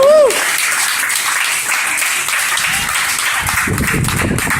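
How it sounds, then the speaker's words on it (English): A room full of women applauds and claps loudly and continuously at a birthday celebration, close by, with a brief voice at the very start. "round of applause to Sue, please, ladies."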